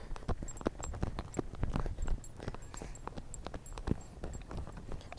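A horse being ponied alongside another walks in a steady, irregular clip-clop of hooves on firm ground, close and fairly loud, with a faint rattle of tack and no talk.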